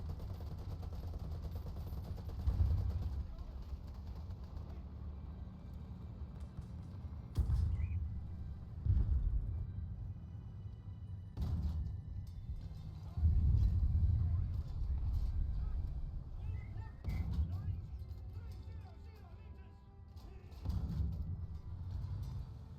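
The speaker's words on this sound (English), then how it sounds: "Oh great, we are just being attacked by aircraft." Video-game aircraft attack with gunfire and shelling, dull booming bursts and rumbles recurring every few seconds at moderate distance, with a low engine-like drone between them.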